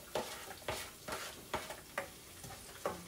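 Onion added to a pan gives repeated scraping, stirring strokes about every half second over a low frying sizzle, steady and moderately close, with no talk.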